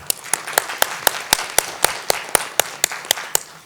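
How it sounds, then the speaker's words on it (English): Audience applause for a keynote speaker at a conference, heard as a steady rhythmic clapping with one dominant sharp close clap beating about four times a second over a softer bed of scattered hands. "Please join me in giving a big round of applause for our speaker and bronze sponsor, Michael Mackniak, as he takes the stage."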